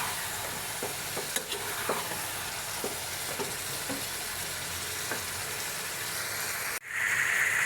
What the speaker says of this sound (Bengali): এগুলো সব দিয়ে দিছি দিয়ে এখন ভালো করে কষাই নিতেছি